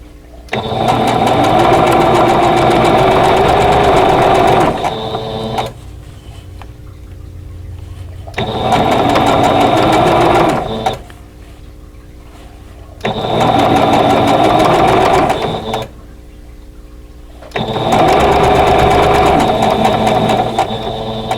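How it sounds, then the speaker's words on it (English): Sewing machine stitching quilt rows together for an Arrowhead Puzzle block, four long bursts of steady, fast whirring, each several seconds, separated by quieter pauses, loud and close. "now I'm going to sew the second two rows together"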